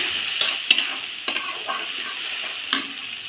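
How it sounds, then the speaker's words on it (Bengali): Masala paste of ground coriander, ginger, dry chilli powder, salt and turmeric with a little water sizzling in a pan for radish and aar fish curry, with steady frying hiss and several sharp stirring clacks. "আর একটু লবণ হলুদ গুঁড়ো দিয়ে মশলাটা সুন্দর করে কষিয়ে নেব"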